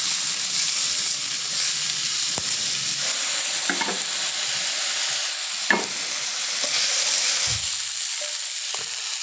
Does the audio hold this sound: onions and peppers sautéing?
yes